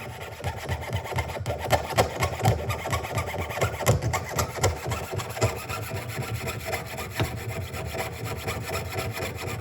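A hand saw cuts through a wooden breadboard in steady back-and-forth strokes, a rhythmic rasping rub repeating close by for several seconds.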